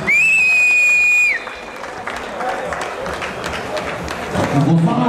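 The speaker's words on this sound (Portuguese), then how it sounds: "Mais uma salva de palmas aí pro André Cywinski." Spectators at a mini ramp skateboarding contest applaud and cheer for skater André Cywinski, with a loud whistle at the start and then a steady wash of clapping and crowd noise.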